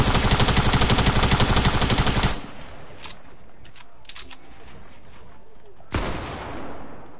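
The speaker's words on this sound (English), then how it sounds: "You're spamming me with your SMG." SMG fire in a video game is spammed in a loud, rapid automatic burst that stops abruptly after a couple of seconds, followed by quieter game sounds and one more short sharp burst later.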